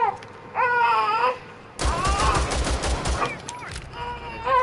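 Rapid gunfire in a first-person shooter video game, bursts of pistol and automatic shots crackling loudly in the middle, with a voice and other game sounds before and after.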